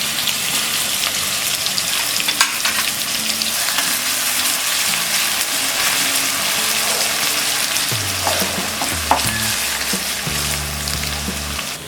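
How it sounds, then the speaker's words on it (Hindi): Crushed garlic, crushed ginger and green chili sizzle in hot oil in a pan, a steady loud frying hiss with occasional stirring knocks and no speech. "लहसुन और अदरक फ्राई होने के बाद हम डालेंगे ये अनियन"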